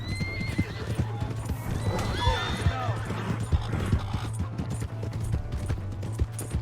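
A horse whinnies loudly over rhythmic clip-clopping hooves in Red Dead Redemption 2, with shouting voices and a low steady hum in the background.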